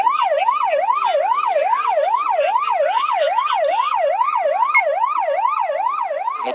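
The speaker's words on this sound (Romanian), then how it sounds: "ambulanțele roșii se îndreaptă în viteză spre spitalul de urgență Floreasca" Red ambulances race toward Floreasca emergency hospital, their sirens sounding a loud, fast, rapidly cycling wail that repeats steadily without pause and dominates the scene.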